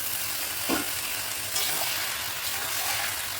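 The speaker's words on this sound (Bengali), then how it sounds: "এবার এই মধ্যে আমি পনিরটা ঢেলে দেবো" Paneer sizzles in a hot pan while being stirred, with quiet frying crackle and a few soft scraping strokes.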